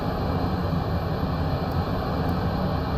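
Dassault Rafale jet engine starting up in Microsoft Flight Simulator 2024, a steady, loud, dense roar that holds without pause for the full stretch.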